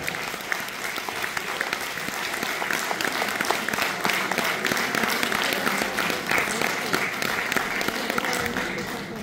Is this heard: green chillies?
no